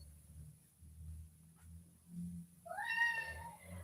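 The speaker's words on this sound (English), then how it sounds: "Well, there's the pretty kitty." A house cat gives a single rising meow near the end, moderately close but soft, after a few seconds of quiet low background rumble.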